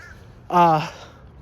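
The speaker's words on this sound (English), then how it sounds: "this bird out here barking." A crow outdoors gives a single loud, harsh caw that rises quickly and fades within about half a second.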